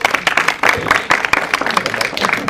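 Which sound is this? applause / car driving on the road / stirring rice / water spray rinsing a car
applause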